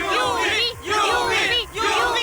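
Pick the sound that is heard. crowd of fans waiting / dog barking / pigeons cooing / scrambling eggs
crowd of fans waiting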